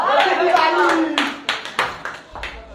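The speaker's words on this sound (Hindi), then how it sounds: "बजाओ ताली।" Students in a classroom clap together in a burst of hand claps that thins into a few separate, uneven claps, with voices mixed in at the start.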